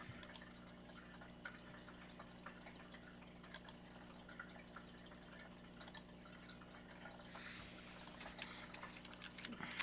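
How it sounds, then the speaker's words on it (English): Waterfall in a home fish aquarium trickling steadily, a faint continuous splash and drip under a low electrical hum, quiet and close, with no talking. "The fish tank I've got behind me is one of those waterfall tanks"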